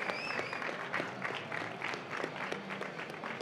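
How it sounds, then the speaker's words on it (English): Distant, fairly faint applause for Demo Jam participants at an AppExchange event, with individual claps audible in a soft, continuous patter. "So give them a round of applause."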